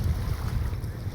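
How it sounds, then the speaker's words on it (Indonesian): Low rumbling surge of ocean waves washing in, with wind noise buffeting the microphone, continuous and fairly close for a brief moment. "sambil mendengarkan deburan ombak yang saling kejaran"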